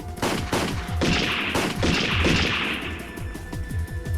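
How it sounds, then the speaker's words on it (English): An intense video game gunfight between men in black and police fills the scene with dense, overlapping volleys of gunfire and sharp cracks that keep going without a break, loud and close, with no voices. "The men in black and the police officers were having an intense gunfight."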